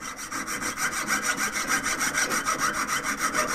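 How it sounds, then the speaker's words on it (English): A hand saw cuts into metal while piercing out a hole for a single-stone ring, a fast, even back-and-forth rasp of about eight strokes per second, close and continuous. "I cut into it this way, keep sawing, and then turn the blade."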